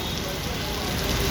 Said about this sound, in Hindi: अल्लाह पाक ये जितने कतरे गिर रहे हैं